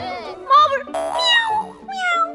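A voice imitates a kitten's meow, a few rising and falling mewing calls, close and clear, mixed with brief spoken voices around them.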